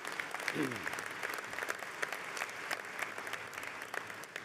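An audience at a KCU commencement ceremony gives a round of applause, moderate and steady clapping throughout, with a brief voice rising over it early on.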